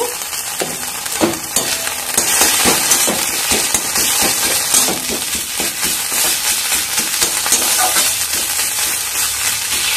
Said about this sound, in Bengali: এবার আদা কাঁচা গন্ধ যাওয়া অবধি ভেজে নিয়ে